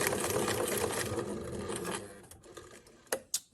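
A sewing machine runs a diagonal row of stitches across a tote bag, a close, steady mechanical whir that eases off after a couple of seconds and is followed by a few sharp clicks. No one talks.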